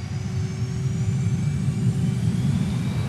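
A Saab JAS 39 jet engine spooling up as the throttle is advanced with wheel brakes released for a military-power takeoff, a steady loud roar with a rising whine heard from inside the cockpit.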